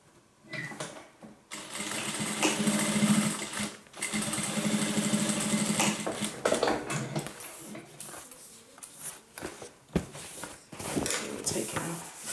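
A sewing machine stitching a crossbody handbag: several bursts of rapid mechanical whirring and needle clatter, separated by short pauses with handling noise and fabric rustle, while a person talks over it.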